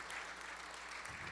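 Congregation in an Amharic church service applauding, a steady dense wash of clapping throughout, fairly distant, with a low murmur of voices beneath.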